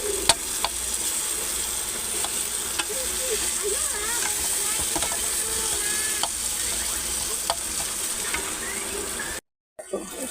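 Tomato being pressed and stirred with a spatula in a hot pan while cooking prawn malai curry: a steady sizzle of frying runs throughout, with light scraping and tapping of the spatula recurring at irregular intervals, close by and without any talk.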